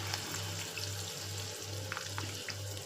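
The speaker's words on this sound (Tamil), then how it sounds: "இப்போது புளி கரைச்சலை ஊற்றிக்கலாம்" Tamarind water is poured into a hot frying pan, making a steady, fairly loud watery sizzle that runs on without a break and has no talk over it.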